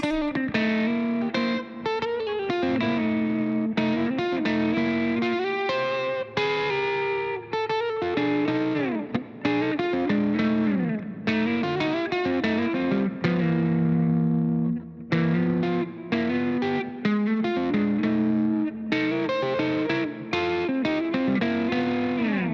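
Distorted electric guitar with chorus and effects plays continuous single-note tritone lines over blues chord changes, steady and loud, with no talking.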